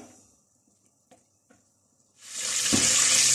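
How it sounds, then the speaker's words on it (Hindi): Ghee hits a hot pan and bursts into a loud, close, steady sizzle after a couple of seconds of quiet clinks. "इस घी को अभी मेल्ट कर लेते हैं।"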